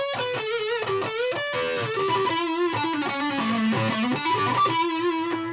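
A Stratocaster electric guitar through an Electro-Harmonix Micro Metal Muff distortion pedal plays a heavily distorted, sustained melodic line with bends and shifting notes, loud and continuous, with no talking.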